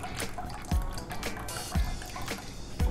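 Soy sauce poured into a bowl for a salad dressing, with soft trickling and a few distinct drips landing about once a second, close and fairly loud, with no talking.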